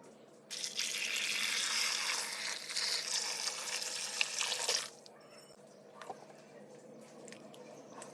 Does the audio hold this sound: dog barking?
no